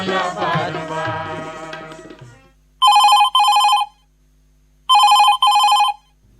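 A telephone rings on a radio phone-in song request show, two pairs of loud electronic double rings cutting in cleanly after music fades out, with near-silence between the pairs.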